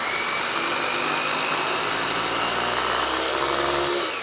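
Food processor whirring as it blends a praliné mixture, a steady close motor drone with a gritty churning hiss that holds for several seconds before cutting off near the end.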